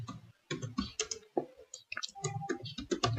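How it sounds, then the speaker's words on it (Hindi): Typing on a computer keyboard to enter an address into an MS Word admission form, with irregular bursts of close plastic key clicks and brief pauses between words. "तो चलिए अब मैं आपको टाइप करके दिखाता हूं"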